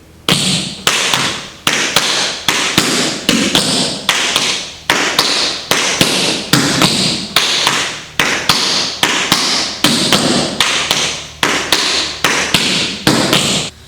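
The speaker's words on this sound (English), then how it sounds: "we're going to do 4 double time steps, right, left, a little bit faster" Tap shoes strike a hard floor in four rapid double time steps, alternating right and left feet: crisp, loud, evenly spaced clusters of taps repeating in a brisk, steady rhythm with no talk.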